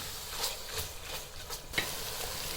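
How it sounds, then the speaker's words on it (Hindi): Minced meat (keema) frying with spices in a pan, a steady close sizzle broken by a few sharp scrapes and stirring clatters. "अब इसको मसालों के साथ भून लेंगे"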